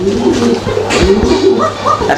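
Several pigeons cooing close by, soft throaty rolling calls overlapping in a steady murmur with faint fluttery movement.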